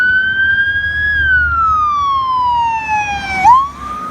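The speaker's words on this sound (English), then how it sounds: "we've got a fire truck being super loud on Thomas here." A fire truck siren wails loudly on a city street, with a long, slow falling sweep that ends in a sharp upward yelp as the truck passes close by, over a low background of road rumble.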